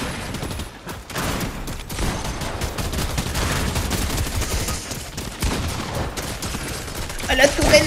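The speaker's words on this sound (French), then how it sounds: "Ah la tourelle elle me tire dans le cul là" Rapid turret gunfire in Fortnite, dense overlapping bursts of shots continuing for several seconds, loud and close, mixed with game noise and a player talking over it.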